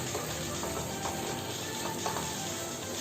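Cooked beef stirred into a thick onion paste in a hot pan for a milk curry, a steady sizzle with soft scraping and spatula strokes throughout, close and continuous.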